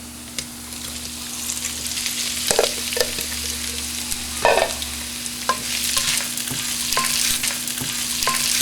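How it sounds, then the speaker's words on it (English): Ginger sizzles and crackles in hot oil with scattered pops and a few scraping stirs, steady and close. "Let me put in my ginger first."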